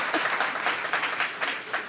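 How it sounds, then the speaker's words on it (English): An audience at a live talk show taping applauds in a short, dense burst of clapping that stays loud throughout, with a faint voice under it. "Give a big round of applause."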